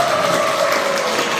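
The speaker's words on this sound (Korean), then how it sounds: "오늘 수고하신 조국영 선생님과 김봉기 선생님, 장기덕 선생님에게 다시 한번 뜨거운 박수를 보내드립니다" Steady applause from an audience at a Busan forum on tea and tea bowls, held during a tea culture festival, a dense and even wash of clapping with a faint tone running beneath it.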